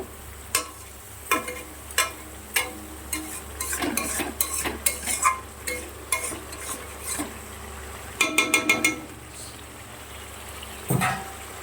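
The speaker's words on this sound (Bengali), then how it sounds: "এবারে গ্যাসটা একদম কম করে দেব, দিয়ে মশলাটা কষিয়ে নেব।" Spice masala being stir-fried in a pan on very low heat for a cauliflower and potato dish, with a spoon scraping and clinking against the pan in irregular strokes over a faint, steady sizzle.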